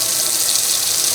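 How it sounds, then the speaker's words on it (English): Tap water runs steadily into a kitchen sink, a continuous broadband rush with no talk, held at an even level throughout. "so there's our water going"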